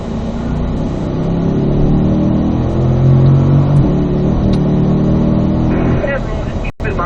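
A Corvette engine accelerating loudly on a race track, heard close from inside the car with a steady rising drone and gear changes, while an instructor talks over it.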